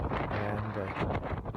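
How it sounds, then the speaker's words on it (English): Strong wind gusts buffet the microphone at White Sands National Park in New Mexico, a loud, rough roar that continues through the whole short stretch and is mixed with speech. "There, it's very windy today,"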